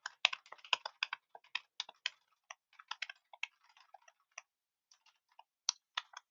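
Close, crisp computer keyboard typing while writing a short note in Python code: uneven bursts of clicky keystrokes with brief pauses between words, quiet and solo without talk.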